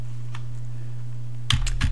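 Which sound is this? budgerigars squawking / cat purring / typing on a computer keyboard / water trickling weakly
typing on a computer keyboard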